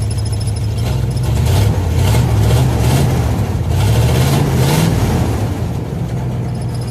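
A car engine, its exhaust header pipe refitted without a gasket, runs steadily nearby, its low rumble rising and falling slightly as it revs gently, fairly smooth and even throughout.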